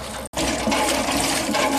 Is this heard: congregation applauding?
no